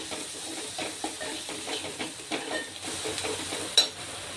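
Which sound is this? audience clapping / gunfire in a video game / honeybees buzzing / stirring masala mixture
stirring masala mixture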